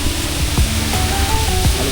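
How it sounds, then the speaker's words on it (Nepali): Waterfall at a park in Jinju, Gyeongsangnam-do, Korea, heard as a steady broadband rush with no breaks, close and fairly loud, alone without talk. "नाइस झरना।"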